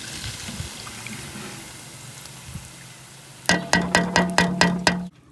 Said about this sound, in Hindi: अब इसमें जाएगा ये तड़का